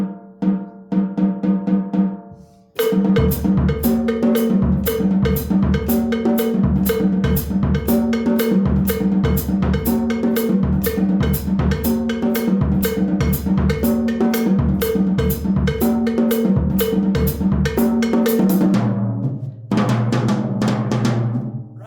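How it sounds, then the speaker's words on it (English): A fast guaguancó percussion groove in 4/4 with cowbell-like strikes and a steady clave pattern, starting with a short solo intro before the full dense rhythm kicks in loudly. "that's the guaguanco with the clave"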